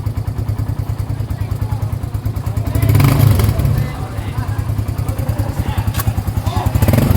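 A motorcycle engine idles close by with a steady, rapid chugging pulse that swells briefly partway through and then settles back to an even beat, with people talking over it.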